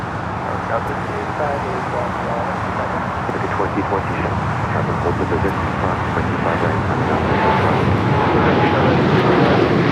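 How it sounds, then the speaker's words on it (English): United Airlines Boeing 787-10 Dreamliner, flight 39 to Tokyo Haneda, rolling down runway 25 right at LAX, its engine roar swelling steadily louder under nearby talk and some road traffic noise. "United Heavy heading to Tokyo Haneda, flight 39, a 787-10 Dreamliner now rolling down 25 right"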